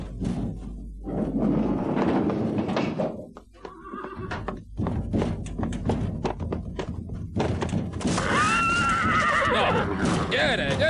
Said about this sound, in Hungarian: Elnézést, megérkeztek az új lovak.